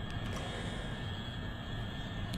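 Steady low roar of the XR5 scramjet engine running in the Orbiter 2010 space flight simulator, a continuous rumbling drone with a faint high whine, constant in loudness with no talk.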